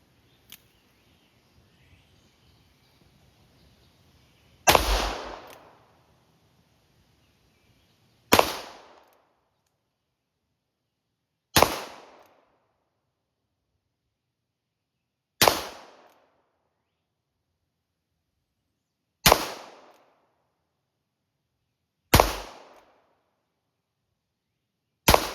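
Taurus 692 revolver firing single loud shots at steady spacing of roughly three to four seconds, seven sharp reports each trailing off quickly into silence, with no talking.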